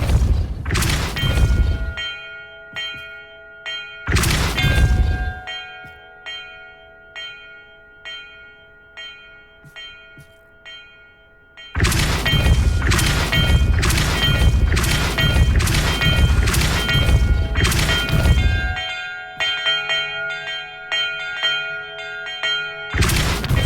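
Church bells ring in the Hogwarts Legacy video game: two loud separate clangs, then a quick run of about six strikes. Each strike leaves long, shimmering tones hanging between hits.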